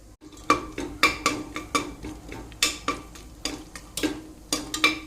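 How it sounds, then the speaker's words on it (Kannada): Whole spices going into hot oil in a pressure cooker for prawn biryani, giving a soft sizzle under a series of sharp metallic clinks and scrapes from a spoon against the cooker. "ಆ ಎಣ್ಣೆಗೆ ನೋಡಿ ಸ್ಪೈಸಸನ್ನು ಹಾಕ್ತೇನೆ"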